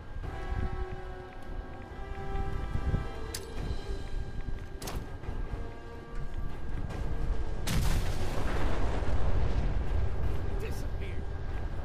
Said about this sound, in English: I want to show you one of these quantum grenades.